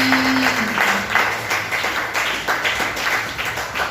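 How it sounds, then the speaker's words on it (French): A church congregation claps together in acclaim of God, a steady burst of applause lasting a few seconds, close and lively, with no voices over it. "Merci, on acclame Dieu."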